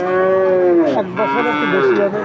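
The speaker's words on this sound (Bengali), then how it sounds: "দেশি গরু শুনলেন দর্শক দেশি জাতের গরু" A Deshi breed cow at a rural cattle market lets out one long, loud, close moo that bends into a couple of shorter lowing calls, with a faint murmur of market noise behind.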